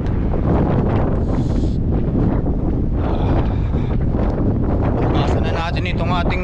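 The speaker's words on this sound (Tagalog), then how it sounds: "Lamig ng simoy ng hangin." Cool breeze buffets a microphone outdoors beside a truck during a trucker's rest break, a loud continuous rumbling wind noise with gusty surges, while someone talks over it.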